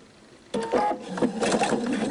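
A sewing machine stitching the ends of an elastic waistband together for a skirt starts up after a quiet moment and runs in a close, fast, uneven whir.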